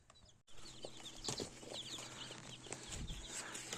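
Chickens cluck softly and repeatedly close by, short chirpy calls overlapping against faint background rustle.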